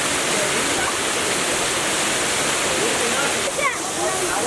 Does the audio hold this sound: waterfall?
yes